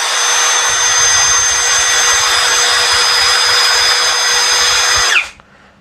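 A JLD 13 mm brushless drill spins at low speed, about 460 rpm, giving a loud, steady whine held close for about five seconds before it cuts off and winds down into quiet.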